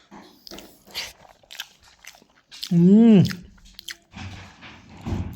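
Someone eats a piece of fried fish belly, with close, intermittent chewing and biting crunches and a brief hummed voice partway through.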